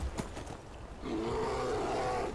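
Bear in a video game gives a deep, drawn-out roar that swells up after a brief moment of quieter ambience, heard fairly faintly in the distance.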